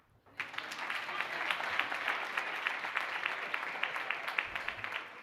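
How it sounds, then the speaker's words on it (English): An evening event audience breaks into applause, steady dense clapping starting abruptly and continuing evenly at moderate distance. "We can clap."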